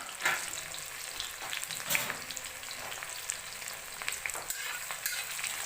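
Whole spices frying in a pan of oil: bay leaf, panch phoron, a dried chili, cinnamon, cardamom and cloves. A soft, steady sizzle is broken by light scraping stirs, fairly quiet and without talk.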